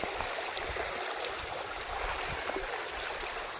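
Water rushes steadily in a continuous, even wash of noise, unchanging throughout, with no voices.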